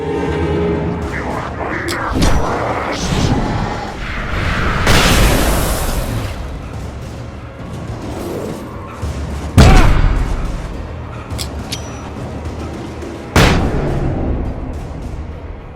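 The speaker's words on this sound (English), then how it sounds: "I think I heard some gunshots." A few sharp, booming gunshots ring out at irregular intervals over a continuous bed of Alan Wake Remastered game ambience, with a rushing noise burst partway through.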